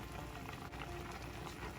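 A steady bubbling simmer of milkfish stew in a clay pot, continuous and close, with a low rumbling undertone and no voices.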